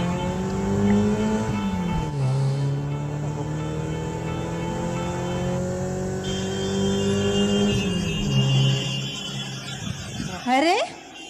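A car engine runs steadily at close range, shifting pitch as it drives through heavy traffic, with a harsh burst of tire or engine noise near the end; people talk over it.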